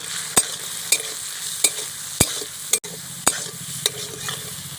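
Prawns coated with salt and turmeric fry in a pan over a continuous crackling sizzle. A spatula scrapes and stirs about eight times at a steady pace, close and fairly loud, with no voices.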